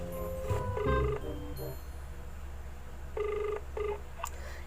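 A phone is dialed for a prank call. Two short bursts of keypad tones, each a quick run of beeps, are separated by a pause, with some low background noise under them.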